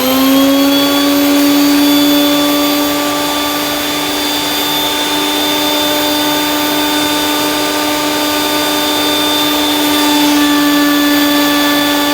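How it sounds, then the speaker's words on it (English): A workshop dust collector running beside a planer setup, a loud, steady motor whine and airy roar that holds constant throughout, with no voices. "first thing to switch on the dust collector, so this will be noisy"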